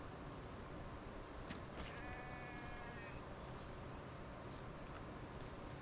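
A few faint sheep bleats in a video game rise over a steady noisy game-like background, with a brief higher-pitched warbling call in the middle.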